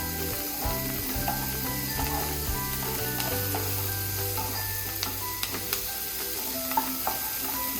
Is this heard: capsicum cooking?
yes